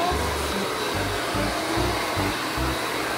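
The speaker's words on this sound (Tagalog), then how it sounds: "Magbo-blower din ako." A hair blow dryer runs steadily and loudly throughout, a constant airy whoosh with a low motor hum pulsing underneath, no voices.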